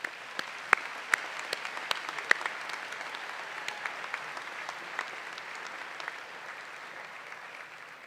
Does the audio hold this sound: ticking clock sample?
no